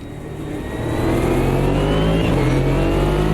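A race car engine in the Automobilista 2 racing game drones loudly on a cool-down lap, its tone rising and then holding at a steady, close, continuous hum.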